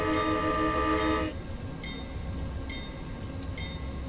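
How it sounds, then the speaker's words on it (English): A loud quilled horn of a GE P42DC locomotive in Train Simulator 2021 sounds for over a second and cuts off, followed by short warbling, wavering horn blasts over a low rumbling engine. "the quilled horn sounds like this"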